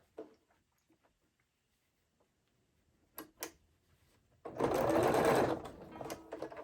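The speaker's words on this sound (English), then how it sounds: "I'm going to go across with a zigzag" A sewing machine starts with a few scattered ticks and clicks, then runs a short burst of fast, loud rattling stitches at close range before slowing to light taps.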